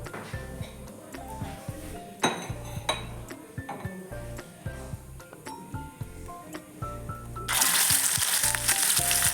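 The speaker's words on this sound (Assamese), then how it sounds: "কেৰাহী এখনত মিঠাতেল দি দিলোঁ আৰু মাছখিনি মই ফ্ৰাই কৰি লৈ ল'ম" Hot mustard oil sizzles steadily as magur catfish fries in a kadai, while utensils clink and scrape against the pan, and the sizzling swells loudly near the end.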